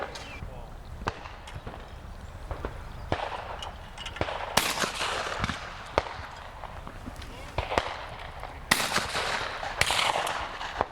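Shotgun shots at clay targets during a clay shooting championship: sharp, loud reports repeat every second or two across outdoor ambience, with some talk in the background.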